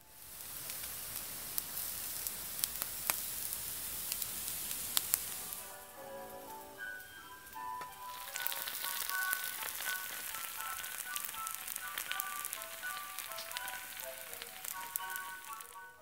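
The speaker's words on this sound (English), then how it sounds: "I'm going to have a fried egg and some baked beans, and I'm just going to fry it all up in the one pan" Potatoes, an egg and baked beans fry together in one pan, giving a steady close sizzle and crackle like rain on a surface, with a few sharp pops early on and a softer, fuller hiss later, no talk.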